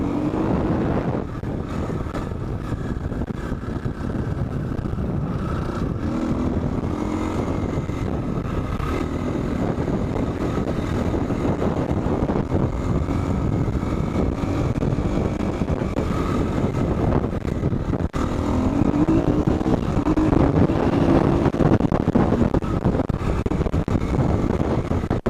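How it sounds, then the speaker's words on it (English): Strong wind roars across a high, open camping spot near a big rock, a steady buffeting rush that batters the microphone with low rumble for the whole stretch, with no talk over it. "it's still really windy up here. Real windy."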